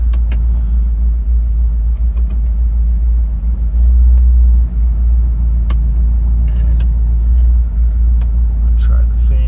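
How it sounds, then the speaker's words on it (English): A 1968 Ford Mustang Fastback with a 289 two-barrel V8 idles nearby with a loud, steady low rumble, while a voice talks over it and faint clicks and rattles come and go. "Fires up nice and easy."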